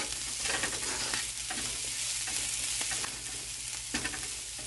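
Vegetables being mixed with salt in a sizzling pan, a spatula scraping and stirring in irregular strokes over a constant close frying hiss, with no voices.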